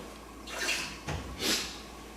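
Water splashes into a measuring cup for bread dough in two short, faint pours separated by a small clunk, the second pour slightly fuller.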